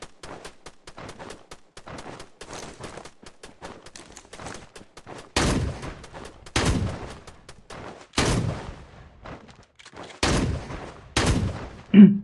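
Gunfire in the Rules of Survival mobile game, including an M14 rifle: repeated sharp shots and short bursts, sparse at first and then heavier, loud strikes around the middle and end, with no voices.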